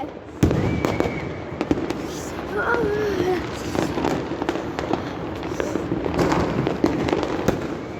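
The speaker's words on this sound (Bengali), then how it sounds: "আমাদের এখানে অনেক বাজি ফুটতেছে।" New Year fireworks bang and crackle repeatedly outdoors, with sharp near bursts and a steady rumble of more distant explosions, some whistling rockets, and a voice speaking in places.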